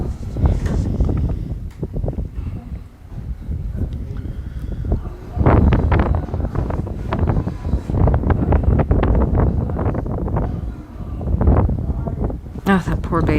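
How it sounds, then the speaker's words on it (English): Steady roaring wind with 20 to 30 mph gusts buffets the microphone throughout, with rumbling low gusts and a voice talking faintly underneath. "they've got 20 to 30 mile an hour wind gusts"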